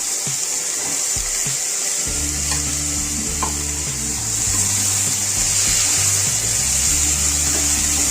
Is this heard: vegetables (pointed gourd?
yes